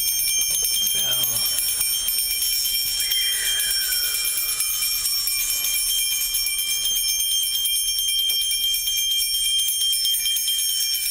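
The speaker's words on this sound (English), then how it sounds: "And a little bell." A small ritual bell rings during a shamanic winter solstice ceremony, its bright metallic tone sustained and shimmering over a steady hiss, with a person speaking softly nearby.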